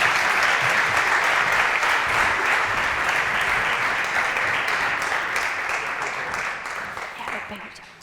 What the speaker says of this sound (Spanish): Por favor, recibamos con un fortísimo aplauso a Diego Galvez.